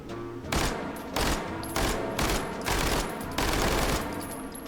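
Video game gunfire, a dual-wielded weapon fired in repeated loud bursts of rapid automatic shots with brief gaps between them, close and alone without talk.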